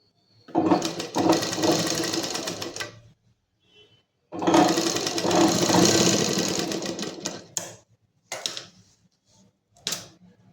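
A sewing machine stitching the sleeve of a collared kurti runs in two long, steady bursts of rapid whirring, then gives a few short stitch runs, close and loud, with no talk over it.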